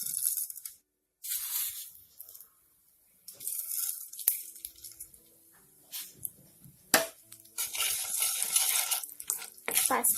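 Panch phoron spices tipped into hot oil for a green chili and mustard seed chutney, giving close, intermittent bursts of crackling sizzle, with small clinks and quiet gaps between them.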